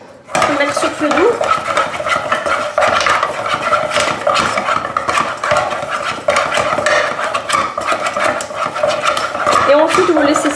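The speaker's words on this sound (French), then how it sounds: "vous laissez 5 minutes environ sur feu doux pour dessécher la pâte, tout en mélangeant bien sûr." Steady scraping and clattering of a spoon stirring thick choux pastry dough in a saucepan over low heat to dry it out, continuous and close, with faint sizzling underneath.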